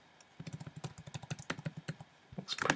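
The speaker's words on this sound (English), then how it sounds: "just use the arrow keys up and down and left and right to sort of position it" Computer keyboard arrow keys are tapped rapidly, a close, dry run of light clicks in a steady patter that ends in a denser flurry of keystrokes, with no talking.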